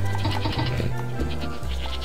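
A goat in Tropico bleats in short, wavering calls over a busy background of music and ambient noise.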